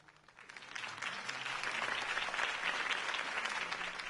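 Crowd applause in the Batman: A Telltale Series video game after Harvey Dent's campaign speech, a broad steady wash of clapping that swells in over the first second and holds loud and dense throughout.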